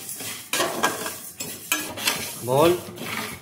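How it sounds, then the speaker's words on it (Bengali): Moong dal, 200 grams, dry-roasting in a hot kadai, with a spoon scraping and stirring it in repeated short bursts of gritty rasping, close and fairly loud, with no talk. "আমি এখানে ডালটিকে প্রথমে ভেজে নেব।"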